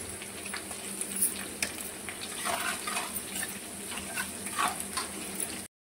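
Green chillies and cumin frying in hot oil for sabudana khichdi, a soft steady sizzle with occasional light stirring clicks, faint and without talk.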